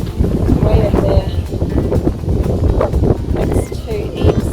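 Strong wind gusts outdoors at an off-grid homestead, a loud, rumbling buffet that batters the microphone throughout, with voices partly audible beneath it.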